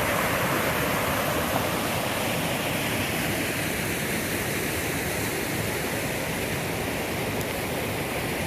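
A rushing mountain creek in the Kaweka range of New Zealand makes a loud, steady, close roar of white water that runs on without a break and with no talk over it.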